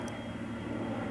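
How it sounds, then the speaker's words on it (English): A low-flying airplane passes overhead, heard as a faint, continuous engine drone with no other sounds. "That was a plane going over."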